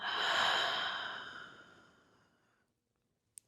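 A deep breath drawn in and then released with a long, breathy exhale that fades out, followed by silence and a brief faint tick; no talking.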